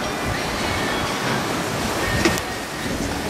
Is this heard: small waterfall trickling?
yes